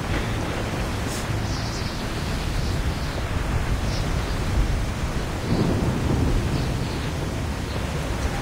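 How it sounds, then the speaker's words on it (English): Thunder from lightning striking a ship in the Assassin's Creed 3 video game rumbles as a dense, continuous roar over steady rain and sea noise, loud throughout with no voices. "Lightning strikes the ship."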